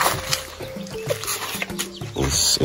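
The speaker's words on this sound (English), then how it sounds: "Look at this chicken." A brooding hen with young chicks in a Kenyan village clucks in short, repeated calls amid busy outdoor background noise, close to the listener.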